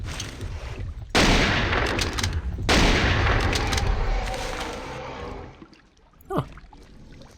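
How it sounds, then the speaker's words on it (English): Sniper rifle shots in the video game Jurassic Park Hunter Legends, with two loud sharp blasts and long booming tails that fade into quieter rustling and a brief thump near the end, with no talk. "I wouldn't recommend using the sniper rifle for self-defense like that"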